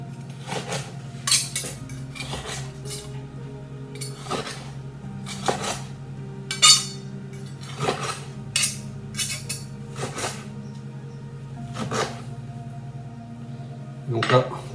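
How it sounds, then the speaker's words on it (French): A knife cuts rare beef tagliata into thin slices on a plate, giving repeated sharp clinks of metal against crockery at irregular intervals over a low steady background hum. "on vient découper des lamelles"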